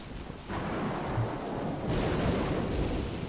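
Rain pours steadily in Don't Starve Shipwrecked, with low thunder rumbling beneath the downpour; the storm swells after a quieter start and holds a dense, hissing wash throughout.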